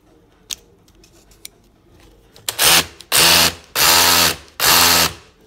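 Four loud, sustained bursts of a cordless 20-volt rotary hammer in hammer mode, each about half a second, following a few quiet clicks and handling knocks.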